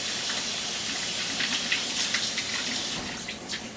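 Steady close running water rinsing dried pigeon peas (gandules), a continuous broad hiss with small splashes and drips throughout, no talking.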